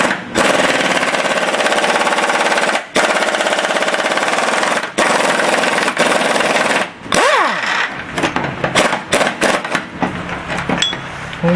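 A loud pneumatic air tool rattles in long, harsh bursts with brief pauses while removing a stuck bolt from a 1971 Charger upper control arm, then breaks into shorter stuttering bursts near the end.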